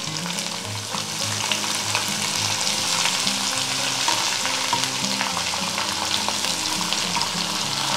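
Finely chopped fenugreek leaves hit a hot garlic tempering in a pan and fry with a loud, continuous sizzle and crackle while being stirred, with no talking.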